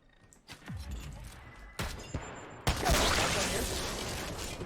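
Gunfire in the video game Apex Legends: a few sharp shot bursts, then a sustained loud crackling volley that continues to the end, with a player's voice talking over the action.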